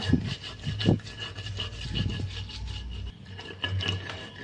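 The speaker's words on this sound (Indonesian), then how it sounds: "kita ulek sampai halus ya ini sudah halus ya" Chili sambal ground in a stone mortar (ulekan): rhythmic scraping and rubbing strokes of pestle on stone, repeating roughly every second, close and moderately loud, with no talk.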